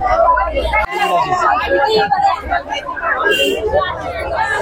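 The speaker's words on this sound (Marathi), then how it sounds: "म्हणजे गर्दी म्हणजे अफाट आहे एकदम, खूप क्राऊड आहे." Dense crowd babble fills the crowded Bhayandar West fish market, many overlapping voices chattering loudly and continuously close by.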